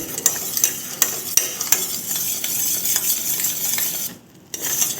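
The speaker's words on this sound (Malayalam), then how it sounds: "ഇത് നമ്മൾ ഇടയ്ക്കിടെ ഇങ്ങനെ ഇളക്കി കൊടുക്കണം" A spoon scrapes and taps rhythmically against a pan while thick thari kanji porridge is stirred, with a soft bubbling sizzle underneath and no talking.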